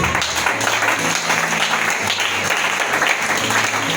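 A church congregation applauds to acclaim the Lord during a sermon, steady and dense clapping filling the room without pause.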